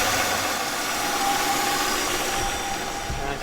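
A car engine idles steadily just after starting, settling into an even, low rumble heard up close throughout, with no talk over it.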